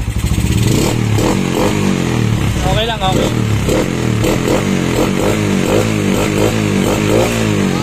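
A motorcycle engine, revived after three years in storage, idles close by with a steady, rattling putter, while someone speaks briefly over it.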